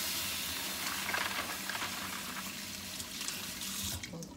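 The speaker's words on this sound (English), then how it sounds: "a good rinse in the tap. Just run some clear water through in there" Water runs from a kitchen tap while fish is rinsed in a sink, a steady hissing splash with faint clatter and sloshing nearby, and no talking over it.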